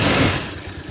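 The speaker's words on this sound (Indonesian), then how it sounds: "jangan lupa untuk menyalakan mesin terlebih dahulu sebelum melakukan pengecekan" A Viar three-wheeler's engine runs steadily at close range, a dense broadband rumble that eases slightly over one second, with no talk during it.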